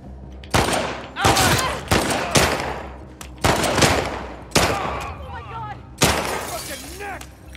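Gunfire in The Last of Us Part II: a series of sharp, loud shots in separate bursts, with shattering impacts ringing after several of them, close and punchy amid combat.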